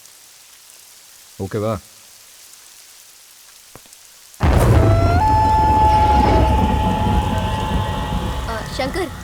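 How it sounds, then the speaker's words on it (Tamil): A loud, steady downpour of rain hisses and roars close by with deep thunder rumbling beneath it. The downpour starts abruptly after a near-silent stretch in which someone speaks briefly. "மழை நிற்கிற மாதிரி இருக்கு."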